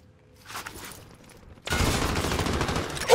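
Rapid bursts of automatic gunfire erupt loud and close in a Call of Duty: Modern Warfare Warzone match, following quieter scattered shots and movement noise.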